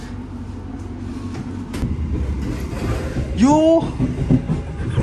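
Steady rumble and rattle of a moving passenger train running from Jakarta to Banyuwangi, heard from inside a carriage with carved wood-like trim, with a brief squeal midway and a short spoken word.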